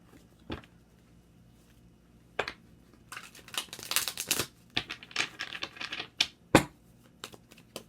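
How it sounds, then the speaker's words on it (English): Tarot cards shuffled by hand at close range, a soft isolated riffle early on, then a denser run of quick papery flicks and taps that builds and ends on one sharp snap, with no talking. "Let's get one more shuffle."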